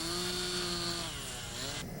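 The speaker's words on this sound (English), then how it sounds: "This powerful chainsaw is designed to cut through hard objects like ice" A powerful chainsaw cutting through a block of ice, a steady loud high-pitched whine with sustained harmonics that holds throughout and drops slightly toward the end.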